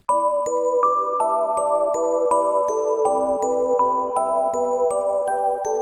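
Two bell-like synth parts play together, a chiming upper line over a denser lower pattern, notes struck in a steady quick rhythm with no talking.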